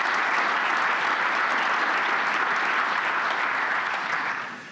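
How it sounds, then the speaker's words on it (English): A large conference audience gives dense, even applause at the Munich Security Conference. The clapping holds steady, then tapers off at the end. "I hope that's not the last bit of applause that I get"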